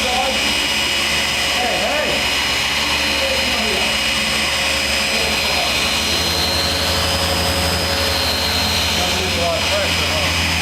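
A machine polisher runs on the paint of a 2006 Ford Mustang, a loud, steady whirring drone throughout with voices talking over it.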